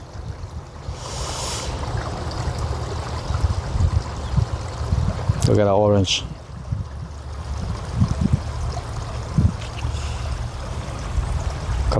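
Water from a shower spray splashes and trickles into a koi pond outdoors, a steady running wash under a short spoken remark.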